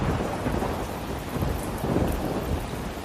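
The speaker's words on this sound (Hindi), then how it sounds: "घर पर आते ही भयंकर बारिश शुरू हो गई" Heavy rain pours steadily with a deep rumble of thunder rolling underneath, loud and continuous with no voices.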